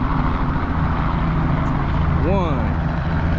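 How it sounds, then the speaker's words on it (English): Two helicopters at a dam, about to take off, make a loud, steady low rumble that runs through the whole stretch. Speech is heard over the engine noise. "it's 2 helicopters finna take off right now at the dam."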